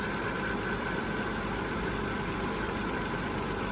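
An Audi S4 B5 twin turbo engine idles with a steady, even hum and a low rumble, constant throughout with no voices.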